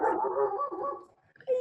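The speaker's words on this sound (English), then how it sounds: "the doggy is talking with us" A dog barking indoors, a few close, fairly loud yips and whining barks in quick succession, with no speech over them.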